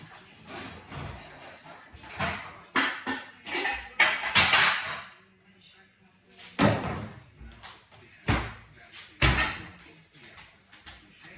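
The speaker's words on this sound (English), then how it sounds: "So I'm gonna grab my loaf pans." Several sharp metallic clanks and clatters as metal loaf pans are handled and knocked together, spaced irregularly with quiet gaps between.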